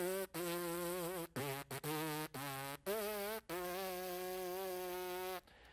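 Happy Birthday is buzzed with the lips alone, as a brass player would, in a string of short and held buzzy notes that step up and down in pitch, close and clear with no talking.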